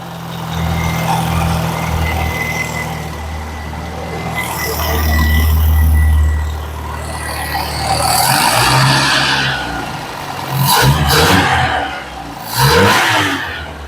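Low rumble of a 1989 Jeep Comanche pickup engine idling, with revs swelling and falling and a few sharper roars near the end.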